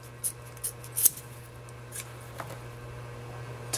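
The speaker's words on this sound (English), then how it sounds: "we're going to snip that right there" Scissors snip paracord for a cobra weave bracelet in a few small, sharp, quiet clicks spaced across a few seconds over a low steady hum.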